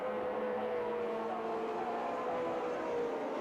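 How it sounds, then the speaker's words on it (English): Touring cars race at Sandown in 1984, a BMW sliding around the track; a dense, steady engine drone holds at a distance without any clear pass-by. "Jim Richards back in fifth position, sliding the BMW all over the track"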